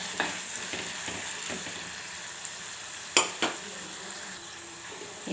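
Turmeric being stirred into a frying tempering for tamarind rice: a steady faint sizzle of hot oil runs throughout, with a few sharp clinks of a spoon against the pan partway through.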